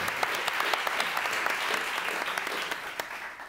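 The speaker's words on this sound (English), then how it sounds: "please give a big round of applause to Gaggan" At a chefs' conference talk, a crowd fills the room with steady, dense applause that holds at an even level from start to finish.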